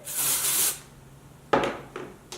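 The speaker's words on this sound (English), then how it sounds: "I take this triple dry 15 dry texture finishing spray" A short burst of dry texture finishing hair spray hisses from an aerosol can, then several quieter brushing and rubbing sounds follow close by.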